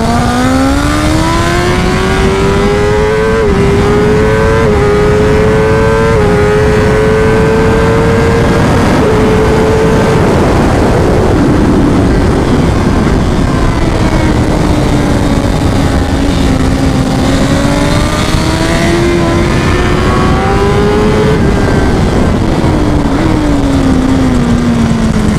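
A BMW HP4 Race motorcycle engine, 215 hp, roars steadily at high revs on a racetrack, its pitch rising and falling as it shifts gears and swings through corners, with heavy wind noise throughout.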